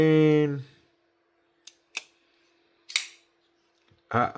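Benchmade Barrage folding knife snapping open and shut, a few sharp, close mechanical clicks spaced apart, with a short stretch of a voice at the start and end.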